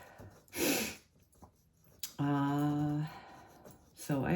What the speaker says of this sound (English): I apologize with the sniffles because that's got to be annoying